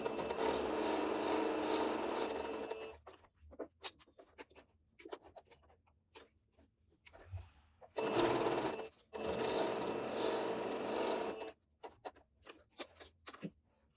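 A sewing machine stitching lastex elastic, running in steady buzzing bursts of a few seconds each, separated by quiet pauses with light handling noises.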